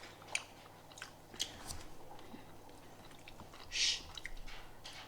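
Someone eats hot, sticky roasted gammon ham, with soft, close chewing, a few sharper wet bites and a brief squishy burst, all quiet and without talk.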